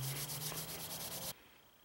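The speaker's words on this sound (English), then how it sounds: "Now I'm just going to use some synthetic steel wool to buff out this handle" Synthetic steel wool buffs the wooden handle of an old grass hook sickle, a steady close scratchy rubbing in quick repeated strokes that stops abruptly near the end.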